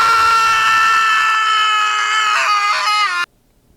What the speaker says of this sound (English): today I'm gonna be doing my loudest and longest scream ever